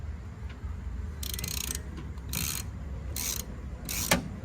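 Bursts of metallic ratcheting as a stuck spare tire bolt on a 2006 Dodge Dakota 4.7 4WD Quad Cab is worked loose, four short clicking spells separated by pauses over a low background rumble.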